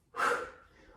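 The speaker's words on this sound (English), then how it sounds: "Nice noisy exhales on the up." One loud, breathy exhale pushed out during burpees in a yoga HIIT workout, sharp at the start, then trailing off softly.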